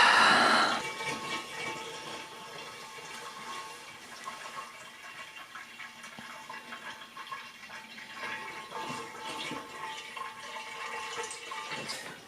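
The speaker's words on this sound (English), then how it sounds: "Super exciting watching the pot fill." A home-brew beer pot fills with pumped liquid: a continuous watery rush, louder at first, then settling into a steady, moderately close pour.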